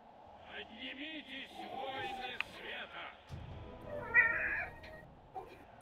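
A house cat meows a few times close by, drawn-out cries breaking through as people talk nearby and a television or radio plays faintly.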